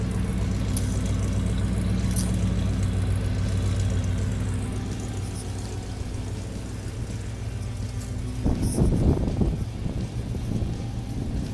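A 1988 Ford F-150 pickup idles at the exhaust, a steady low rumble recorded up close with wind buffeting the microphone, turning rougher and louder near the end.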